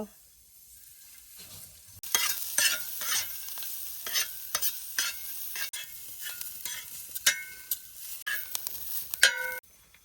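Onion masala frying in oil on a wood-fired stove for drumstick bhaji, heard as a brief quiet start followed by steady close sizzling with repeated scraping stir strokes, no voices.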